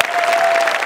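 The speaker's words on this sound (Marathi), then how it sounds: "जोरदार टाळ्या" Audience applause at a Marathi comedy show, a dense steady wash of clapping that fills the short moment loudly from start to end.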